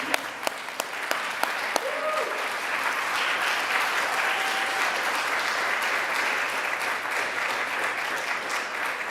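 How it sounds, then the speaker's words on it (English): An audience at a Pi Kappa Lambda induction ceremony gives a sustained, even round of applause for the new members, starting with a few scattered claps before it swells into full clapping. "Let us all give them a round of applause before we distribute honor cords"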